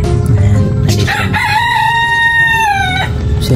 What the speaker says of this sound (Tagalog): Pasensya na kayo kasi maingay yung manok ko.